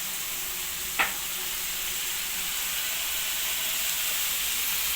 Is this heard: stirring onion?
yes